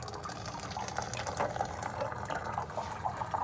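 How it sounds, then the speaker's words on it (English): Water drains steadily from a hot water heater tank as air enters, a continuous close gushing, splashing flow with no pauses and no voices. "the air coming in is actually causing the water to start flowing again, and it's all coming out"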